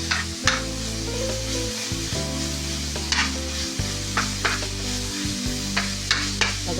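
Annatto seeds toast in a dry frying pan and are stirred, giving a gentle continuous sizzle with light scraping, heard under steady background music.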